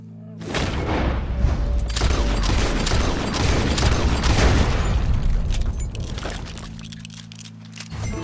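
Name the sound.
gunshots in Red Dead Redemption 2 video game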